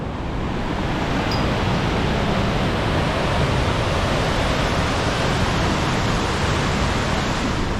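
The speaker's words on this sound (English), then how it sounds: "Look at the powerful of this water." Powerful water roars at a hydroelectric power plant, a loud, dense, unbroken rushing hiss heard up close, steady from start to finish with no voices.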